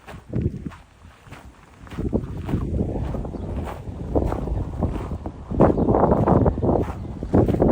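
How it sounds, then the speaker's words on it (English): Cold wind buffeting a microphone on a city walk in Ponta Delgada, Azores, a steady rumbling roar that swells in gusts, with faint footsteps. "the wind, it's really cold. It's a cold wind"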